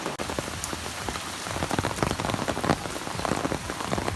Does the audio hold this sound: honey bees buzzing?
no